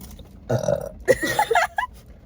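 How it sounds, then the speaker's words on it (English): One loud, drawn-out burp close to the microphone, rumbling in two or three bursts over about a second. "And I have to burp."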